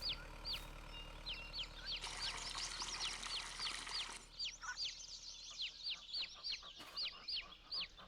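Chickens on a farm in the Farming Simulator 22 video game cluck and chirp repeatedly in short, high, evenly spaced calls, with a brief denser patch of overlapping noise partway through and a quiet background hum underneath.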